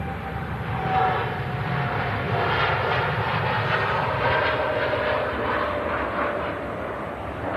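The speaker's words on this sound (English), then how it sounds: "TUI Dreamliner, first of 2 on the roll." TUI Boeing Dreamliner jet airliner on its takeoff roll at an airport, a steady broad distant engine roar that holds for several seconds with a slight swell, with no talk.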